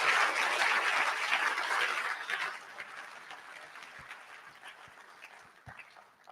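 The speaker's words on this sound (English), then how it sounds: "No, please clap louder." Clapping from a crowd at a medical college fellowship induction in Ghana starts full and lively, then tapers over a few seconds into a faint, scattered patter with a few stray thuds.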